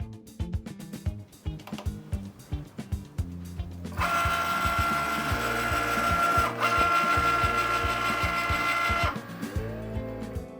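A vinyl cutting machine slices a sheet of matte white vinyl on a loaded mat for vintage railway signs, giving a steady mechanical whir with a high motor whine and rapid stepping chatter that grows louder midway and then stops.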